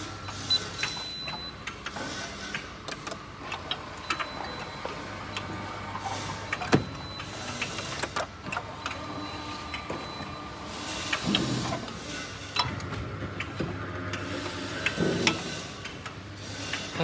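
A small electric motor, loosely held by its four mounting screws, runs after power-on while being aligned. It gives a steady mechanical whir with scraping, rasping passes and sharp clicks throughout, fairly close.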